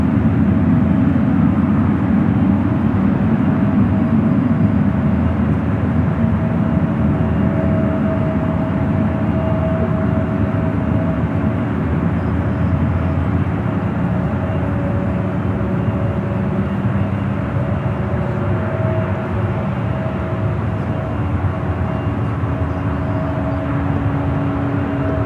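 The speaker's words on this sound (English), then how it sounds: "Japan 1 Heavy, the 13208, runway 28 left, clear for takeoff" A Japan Airlines Boeing 777 takes off from runway 28 left at San Francisco airport, its jet roar a broad, steady rumble heard from a distance that fades slowly over about twenty-five seconds.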